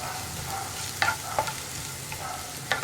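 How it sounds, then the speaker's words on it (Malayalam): Cooked papaya and onions are sautéed in a pan for a Kerala mezhukkupuratti, a low steady sizzle broken by several sharp scraping stirs of a spoon against the pan. "നമ്മളിപ്പോൾ കുക്ക് ചെയ്ത പപ്പായ ആയതുകൊണ്ട് ഇതൊന്നുകൂടി ഒന്ന് വഴറ്റിയെടുക്കുന്നുണ്ട്"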